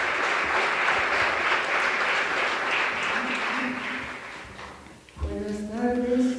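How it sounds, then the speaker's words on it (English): Audience at a conference applauding to welcome someone speaker, steady broad clapping that fades out midway, followed by a brief thump and a voice beginning to speak nearby. "big round of applause to welcome her."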